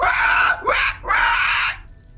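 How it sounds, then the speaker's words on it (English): High-pitched screeching shrieks, three loud, harsh, piercing wails in quick succession, the middle one brief and the last long, close and dominant before fading into quiet. "high-pitched screeching sound"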